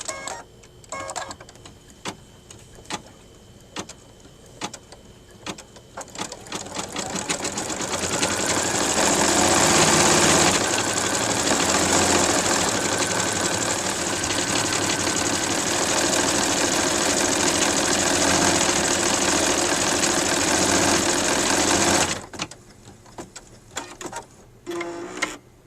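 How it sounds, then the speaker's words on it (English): An embroidery machine stitches lettering onto an in-the-hoop coin purse, its rapid mechanical needle chatter building to a loud, steady whir for about twelve seconds before dropping back to lighter ticking, with no voices. "once the text is all sewn out"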